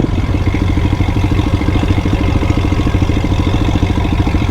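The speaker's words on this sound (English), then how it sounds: "Boy, listen to that exhaust." A KLX 300 motorbike exhaust idles close by, a loud, steady low rumble with a fast even pulsing beat and mechanical clatter, with no talk over it.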